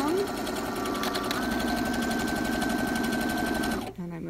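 A sewing machine runs a twin needle with two threads, including variegated thread, through fabric in a fast, steady, close mechanical whirr, then stops with a short clunk at the end.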